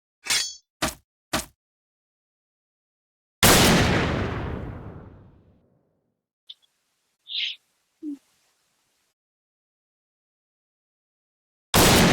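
Sharp gunshots from the video game Point Blank on a mine map: three quick cracks, a louder blast with a long decaying tail, then scattered faint pops and a final shot, no talk.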